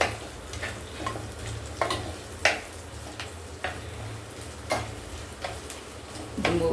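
Sliced red shallots frying in oil in a pan, a continuous close sizzle punctuated by regular scraping taps of a spatula stirring.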